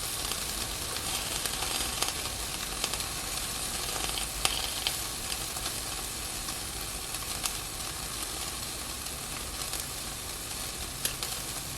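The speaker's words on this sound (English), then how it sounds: "It's been about 45 seconds and all the steam is coming out." A Dash Mini Griddle cooking Top Ramen noodles sizzles and hisses steadily as steam escapes, with faint crackles and small pops over a constant bubbling fizz.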